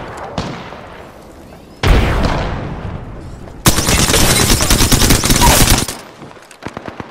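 Apex Legends gameplay with a frag grenade blast: a loud boom at close range, then sustained rapid gunfire and heavy bursts, ending in scattered shots.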